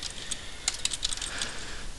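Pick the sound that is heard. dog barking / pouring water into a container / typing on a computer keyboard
typing on a computer keyboard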